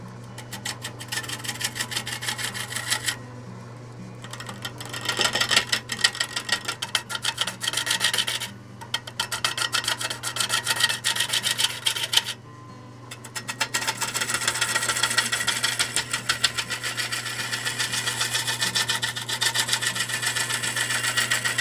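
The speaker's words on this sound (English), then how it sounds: "he's hired me to turn a bowl out of it" A lathe turns a dried wood bowl, the gouge rasping and scraping steadily against the spinning blank over a constant motor hum, with brief pauses where the cutting stops before resuming.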